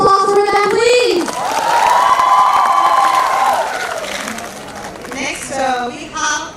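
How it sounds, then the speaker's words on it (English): An audience cheers, whoops and applauds after a dance performance at a North East fusion carnival held at a university event. The loud crowd noise swells and then slowly fades, with a voice speaking briefly at the start. "let's give a big round of applause for them, please!"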